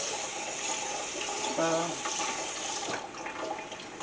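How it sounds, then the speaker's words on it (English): Water pours into a bowl of plant fiber being prepared for mordanting, a close, continuous splashing and trickling under a man's brief speech. "So add some more water."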